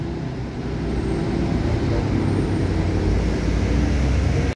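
Steady road rumble of Hidayah Trans and BMP intercity buses travelling in a convoy during the holiday homecoming rush, a continuous loud drone of engines and tyres with no breaks.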